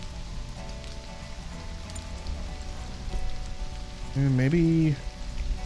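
Steady rain hisses in the jungle of the game Stranded: Alien Dawn, a constant wash of patter that runs throughout while someone briefly talks over it.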